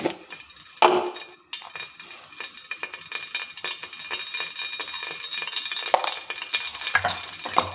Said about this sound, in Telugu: నెయ్యి కాగింది వాటిలోకి మనం ఆవాళ్ళు జీలకర్ర అవి పోపు దినుసులు వేసేస్తున్నాం